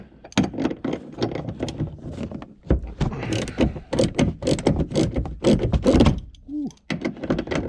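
A ratchet clicks repeatedly while loosening a nut on a Honda Fit headliner, close and busy, in bursts of rapid pawl ticks with short pauses between them.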